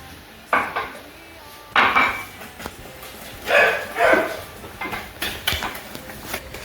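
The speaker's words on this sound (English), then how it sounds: "We mix the flour with milk." Flour and milk are mixed in a pot, heard as a few bursts of spoon or whisk scraping and clattering against metal, separated by quieter gaps.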